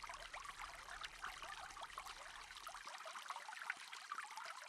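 Water pouring steadily onto a garden plot in Farming Simulator 22, a continuous splashing trickle that stays even and fairly close throughout, with no talk.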